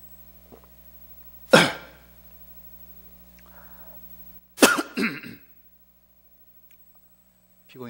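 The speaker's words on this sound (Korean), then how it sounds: "피곤이 덜 풀려서 내가 지금 기침이 자꾸 나오네" A preacher's sharp single cough during a sermon, then after a pause a second burst of two or three coughs, close by against a quiet room with a low electrical hum.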